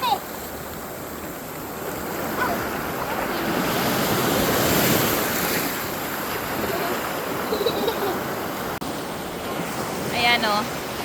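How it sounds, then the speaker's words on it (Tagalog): Big ocean waves surge and crash onto a beach in a steady, loud roar with wind buffeting the microphone, while a person's voice briefly cuts in over the surf. "Ang lalaki ng mga waves."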